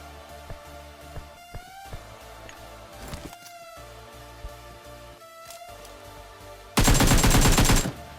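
Gunfire in the mobile battle royale game PUBG Mobile: scattered faint shots and small game sounds build to a loud sustained automatic burst near the end, with no talking.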